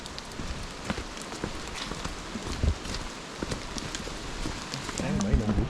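Rain falling while descending a slippery trail, an irregular patter of drops and scuffing footsteps close by, steady and moderately loud, with no talk.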